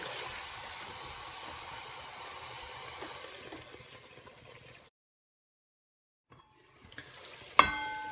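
Tomatoes with a little water cook in a pan on a medium flame, a gentle steady sizzle and hiss that cuts out to silence, then returns with a clink.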